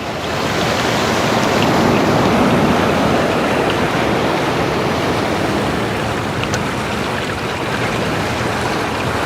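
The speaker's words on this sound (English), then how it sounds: "Got a little sun and surf." Steady, loud broadband wash of waves and surf rolling along the Thailand coastline, a continuous roar with no voices over it.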